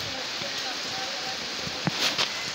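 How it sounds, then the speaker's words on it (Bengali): Rain falls outdoors as a steady, soft broadband hiss, with a couple of brief louder spatters near the end. "দেখুন বৃষ্টি হচ্ছে"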